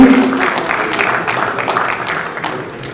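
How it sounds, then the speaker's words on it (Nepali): Applause for the football club Biratnagar City FC at a Nepal Super League team announcement event: a steady wash of clapping from a crowd, fairly loud, fading slightly toward the end. "जोरदार ताली एकपटक विराटनगर सिटी एफसी का लागि"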